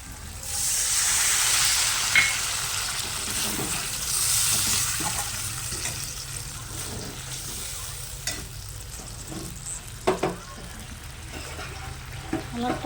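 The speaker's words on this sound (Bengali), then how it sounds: "আলুগুলি আমি ভেজে রেখেছিলাম, এখন দিয়ে দিব জল।" Water poured into a pan of fried potatoes for a fish curry, a loud hissing sizzle at first that settles into steady bubbling with occasional stirring clinks, while someone talks over it.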